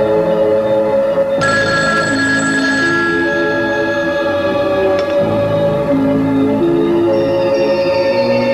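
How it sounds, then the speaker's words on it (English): An old-fashioned telephone bell rings loudly and steadily in a scene from a 1970s horror film, a sustained metallic jangle that runs on without pause over a low background tone. "the worry the audience feels every time a telephone rings"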